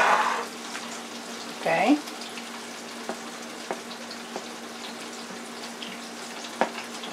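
Battered shrimp deep frying for shrimp and vegetable tempura: a steady, fairly loud crackling hiss of hot oil with scattered pops, and a person briefly speaks near the start.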